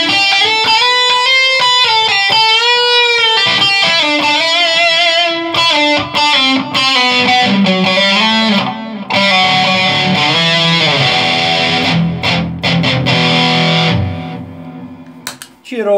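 An electric guitar runs through a handmade AB selector pedal with delay and boost engaged, playing loud, distorted chords and sustained notes with echoing repeats that cut out near the end.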